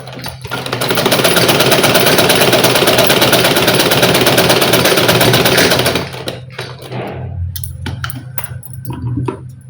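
Sewing machine running steadily as it stitches the elastic channel of a small child's pajama, a loud continuous whir for several seconds that stops abruptly, followed by quieter handling clicks and faint rustling.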